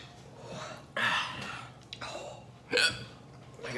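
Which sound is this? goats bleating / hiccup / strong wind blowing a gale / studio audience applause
hiccup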